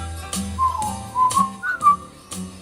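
Melodic whistling of the tune from a song, a few short phrases with gaps between them, clear and close with no talking.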